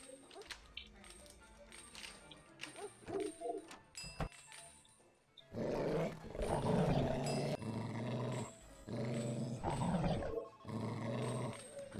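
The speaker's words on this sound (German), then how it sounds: "Oh crap, da kommen welche mit Hunde." Dogs growl in the stealth heist video game Monaco, in gruff bursts mixed with game sounds, while people talk over them.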